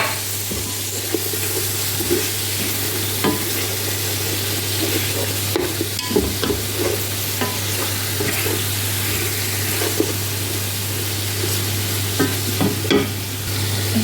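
Tomatoes are added to a hot frying pan and stirred, with a steady loud sizzle all the way through, broken by scattered scraping clicks of the stirring spoon. A low constant hum sits underneath.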